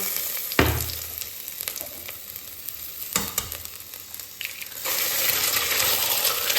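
Eggs crackle and sizzle in hot oil in a pot, with a sharp spattering burst early on, quieter frying in between, and a steadier, louder sizzle toward the end.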